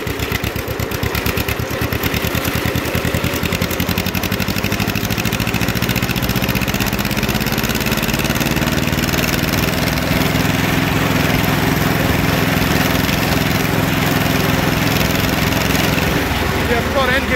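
A John Deere lawn tractor engine runs loud and steady while driving, a continuous buzzing drone with a slowly shifting pitch that never drops away.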